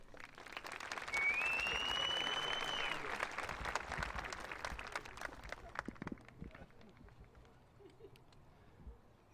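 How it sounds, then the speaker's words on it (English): Audience applause at a Lacey Township Middle School promotion ceremony, a broad sustained clatter of many hands clapping that swells early, then slowly thins and fades toward the end, with a whistle cutting through near the start. "Let's give them all another round of applause"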